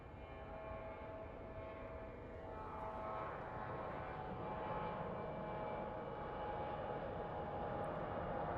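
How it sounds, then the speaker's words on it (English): A CRJ regional jet roars at a night airport, a loud sustained broadband engine rumble with a whining tone that swells slightly partway through and stays strong throughout. "So the roar you're hearing is actually a CRJ headed to Medford."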